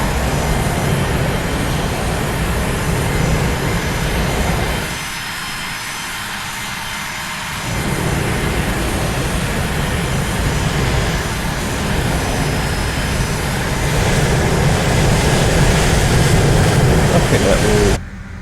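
Jet engines of a Lufthansa airliner in Microsoft Flight Simulator 2020 drone steadily at the gate before shutdown, a loud broadband roar with a brief dip in the low rumble partway through, and a voice talks over it.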